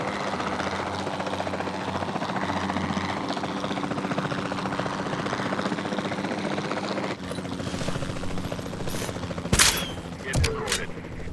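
In the video game Jurassic World Evolution 2, tranquilizer darts are fired at a dinosaur from a helicopter. Several sharp shots crack out near the end over a constant loud rotor drone.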